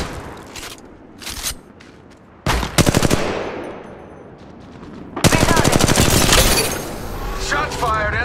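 Automatic gunfire in the video game Apex Legends, loud close bursts of rapid shots in two main volleys with scattered single shots between, and voices talking over the action.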